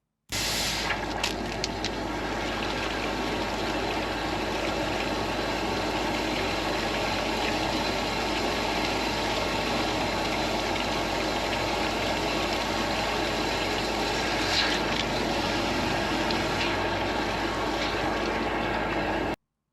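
A drain jetter engine runs steadily at a storm drain during heavy rain, a loud continuous drone with a rough low rumble that holds without pause throughout.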